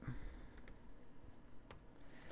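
Fast, light clicking of keys being typed on a computer keyboard, a short close burst of irregular taps at low volume.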